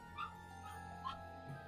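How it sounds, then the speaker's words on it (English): A dog gives a few faint, whining yips in short separate bursts over a low steady hum, quiet and somewhat distant. "I think there's a dog in there though."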